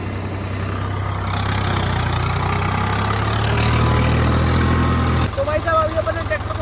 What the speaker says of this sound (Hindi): तो भाई साहब अभी अपने ट्रैक्टर को बस 1 राउंड चलाया है